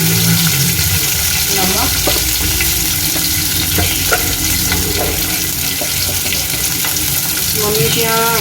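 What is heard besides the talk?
vegetables sautéing for fried rice in pan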